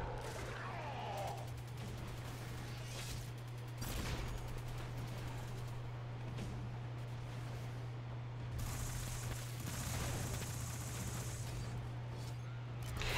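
Rapid gunfire from the video game Destiny 2 crackles in repeated bursts over a steady low electronic hum, with the shots spread through the clip and voices murmuring underneath.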